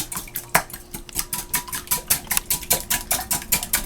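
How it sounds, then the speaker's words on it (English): Eggs beaten briskly in a bowl, a steady fast rhythm of metal clicking against the bowl side with a wet sloshing undertone, close and fairly loud, no talking. "you want to beat your eggs first"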